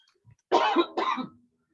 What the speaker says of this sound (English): you're coughing too